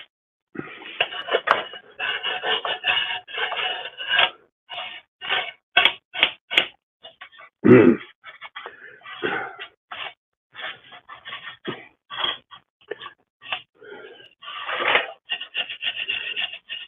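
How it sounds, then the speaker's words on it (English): A stiff bristle brush scrubs hard during a table saw rebuild, giving dense rasping strokes in uneven bursts and pauses, close and loud, with a brief knock partway through. "Stiff bristle brush."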